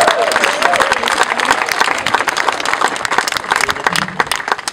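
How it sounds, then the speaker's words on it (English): Audience applause at a brewery opening in the Bahamas: steady, dense clapping from a crowd, sustained and fairly loud throughout, with a few voices mixed in. "Give another wonderful round of applause."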